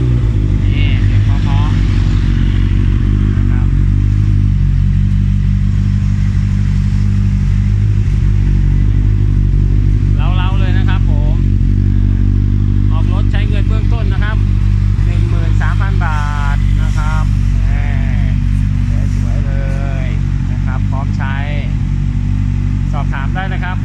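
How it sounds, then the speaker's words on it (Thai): A Honda CB650F motorcycle engine idles loud and steady close by, with several short throttle blips that rev it up and settle back down, and no talking over it. "สตาร์ทให้ฟังนะครับ"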